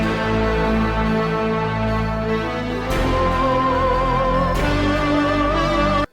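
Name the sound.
Diva synthesizer sound from Driller plugin core section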